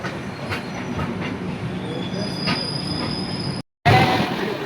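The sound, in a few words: Howrah–Chennai Mail train at Balugaon station platform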